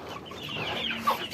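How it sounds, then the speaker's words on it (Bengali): Hens cluck on a small village poultry farm around feeding time, giving soft overlapping clucks and a brief sharper call near the end, heard alone at moderate distance. "ওই যে অনেক মুরগি।"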